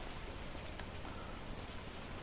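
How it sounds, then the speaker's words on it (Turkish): Steady, soft video game rainfall in GTA 5 hisses evenly throughout, a quiet wash of droplets with no voices or other distinct sounds. "Yağmur yağdı. Yağmur yağıyor zaten bak."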